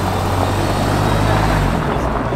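Alpina E39 Touring engine running close by, a steady loud low rumble with a broad roar held throughout, easing slightly near the end.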